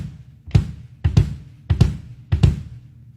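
Four pairs of quick, deep kick drum thumps on double bass drums, each pair a fast heel-up double stroke, evenly spaced and close up with no other instruments.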